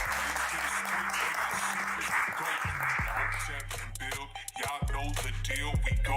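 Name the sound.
audience applause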